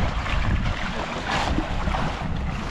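Wind and waves buffet a boat at sea, a steady loud roaring rush with sloshing water and gusty microphone buffeting, no voices.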